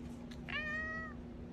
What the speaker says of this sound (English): This is one of my other cats, Atlas.